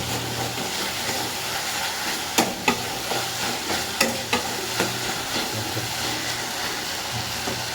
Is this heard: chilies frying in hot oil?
yes